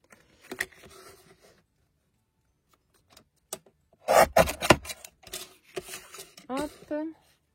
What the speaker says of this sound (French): je vais prendre ma guillotine pour faire des coupes droites